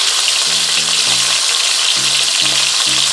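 Pieces of sea bass fry loudly in a pan for a Jamaican brown stew, giving a steady, dense sizzle with faint stirring, close and continuous with no talking.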